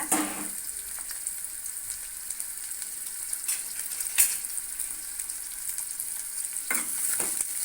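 Small onions frying in a pan over a medium flame, a soft continuous crackling sizzle with a few sharper scraping stirs, moderately quiet and without voices.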